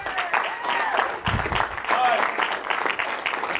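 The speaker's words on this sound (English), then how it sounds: "Let's give him a round of applause" Audience applause at a marketing seminar, a burst of clapping rising under and around speech, with a voice continuing over the noise throughout.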